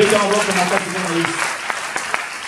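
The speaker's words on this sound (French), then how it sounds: "Acclamons très fort pour Jésus." A church congregation claps for Jesus. The applause is loud and close, a dense wash that starts strong and then thins out, with a voice heard over the start of it.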